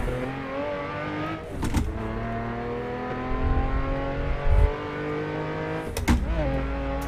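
Saleen S5S V8 engine in Assetto Corsa, revving hard with rising harmonic tones, gear shifts breaking the climb with brief bursts, loud and close.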